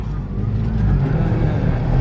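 A Land Rover engine bogs down on soft beach sand, a loud, steady low rumble that strains without rising revs, close up and continuous with no voices over it.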